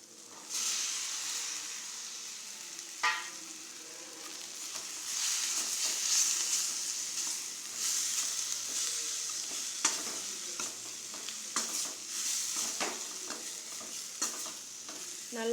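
Chopped broad beans stir-fried with sambar powder give a steady sizzle and hiss, broken by repeated scraping strokes of a spatula against the pan.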